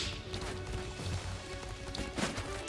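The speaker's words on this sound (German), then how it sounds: "Wir reiten ja erstmal durch." Horse hooves gallop in a video game ride, a quick rhythmic drumming of hoofbeats at moderate volume mixed with some scattered thuds.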